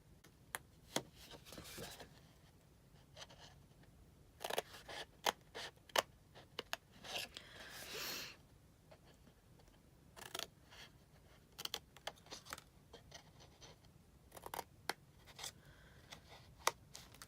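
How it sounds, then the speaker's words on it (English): Scissors snip along the scored outline of cardstock for a pen pocket bookmark, a quiet, close series of irregular crisp cuts and clicks with short pauses between bursts. "So I like to use my scissors cutting on the back side where the bumps face up toward me"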